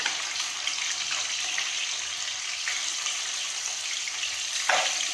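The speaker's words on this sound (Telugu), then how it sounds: "The rest of the gravy కూడా మనం ఇందులో వేసేయచ్చు." Bitter gourd frying in a pan as gravy is added, giving a steady close sizzle with a few soft stirring scrapes and a louder splash of sizzle near the end, with no talk.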